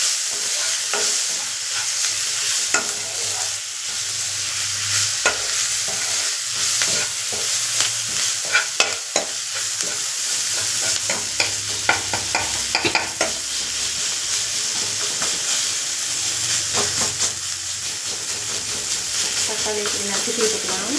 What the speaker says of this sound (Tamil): கொஞ்சம் மஞ்சள் பொடி, போட்டு அப்படியே வதக்கிடணும்